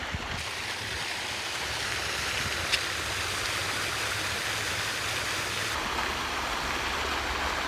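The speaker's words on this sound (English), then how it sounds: "we're just by the fountains, which I'm sure you can hear just behind me with Mr. Morty." Water fountains splash and rush steadily in a continuous, fairly loud wash of noise, close by, with no break or voices.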